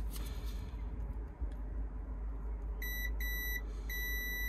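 A series of electronic beeps from a machine on a very wet building site starts partway through, three or four steady tones with short gaps, over a low constant hum.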